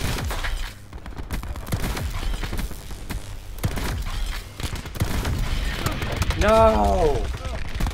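Gunfire in a first- or third-person shooter game comes in a few scattered bursts under steady talk, with a louder tonal game sound near the end.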